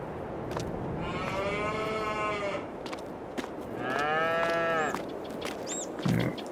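Cows mooing in Farming Simulator 22 on a Polish farm: two long, drawn-out harmonic moos, the first around one to three seconds and the second around four to five, over a steady farmyard ambience.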